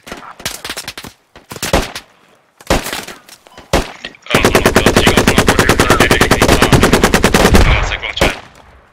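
Sustained burst of automatic machine-gun fire in the military shooter Squad, loud and close, preceded by several scattered single shots and followed by a final shot.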